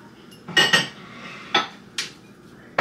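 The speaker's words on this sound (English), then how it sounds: "So we're just putting away the cups and stuff" Cups being put away out of a kitchen dish drainer, several sharp clinks and clatters of dishware and utensils in quick irregular bursts, close and fairly loud, with no talking.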